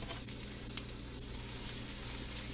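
Tablespoons of butter hitting a hot pan with olive oil for pork marsala, a bright steady sizzle that swells louder after a moment, close and alone.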